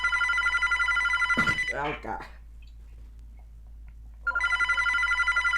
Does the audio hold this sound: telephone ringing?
yes